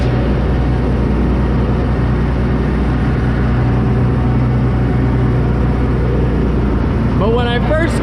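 Monster truck engine idling in first gear: a loud, steady low rumble throughout, with a voice speaking briefly near the end.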